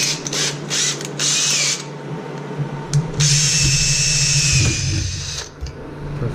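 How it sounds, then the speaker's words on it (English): A power drill bores an 11/16-inch hole through a 2-inch piece for a tractor snow blower modification, its whine starting and stopping in several bursts with one long high-pitched run near the middle. "Gonna drill that out."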